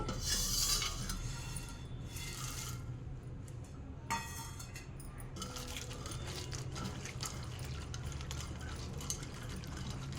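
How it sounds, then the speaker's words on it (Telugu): Dried prawns being rinsed by hand in a bowl of water for a tomato prawn curry, with steady close splashing and swishing, a few glassy clinks and a brief burst of running water near the start. "ఇప్పుడు వీటిని నీట్గా వాటర్లో వేసి కడిగేసేసుకోవాలి"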